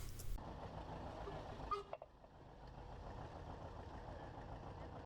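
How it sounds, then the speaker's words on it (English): Big 150 horsepower steam traction engine running at a threshers show, a steady low chugging rumble with a brief clank near two seconds before the engine sound settles back to a constant drone. "the big 150 horsepower steam engine and a couple other smaller steam engines"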